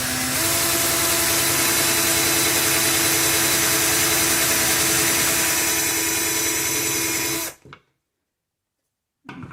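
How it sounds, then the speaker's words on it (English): A power drill bores a hole for a wooden dowel in a DIY Christmas tree tabletop piece, a loud steady whirring drone for about seven seconds, then silence and a brief restart. "I'm going to try and just drill it down just a little bit more"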